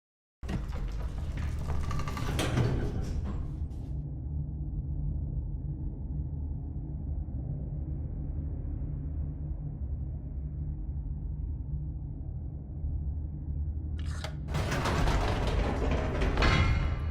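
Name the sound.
elevator doors and mechanism in The Stanley Parable video game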